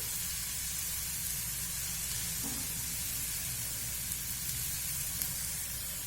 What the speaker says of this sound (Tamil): இப்போ ஒரு நிமிஷம் நல்லா இதை வதக்கி விட்டுக்கலாம்.